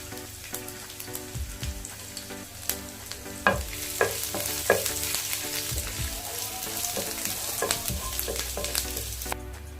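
Garlic sizzles and crackles softly in a hot pan, with occasional scraping and clinks of a spatula stirring, steady and close.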